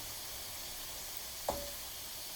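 Shrimp dropped into a hot pan give one sudden close sizzle burst that fades quickly, set against a steady background hiss of frying, with no talking.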